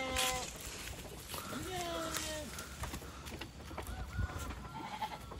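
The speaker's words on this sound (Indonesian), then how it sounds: "Tuh kambing" A goat bleats a few times on a farm garden plot, short wavering cries mixed with people talking nearby and faint birds in the background.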